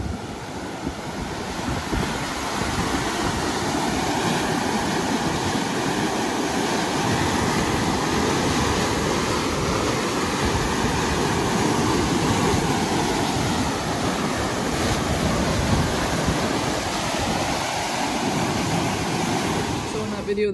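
Water rushes steadily through a canal diversion off the Snake River in Idaho's Magic Valley irrigation country, a continuous broadband roar mixed with wind noise on the microphone, with no speech.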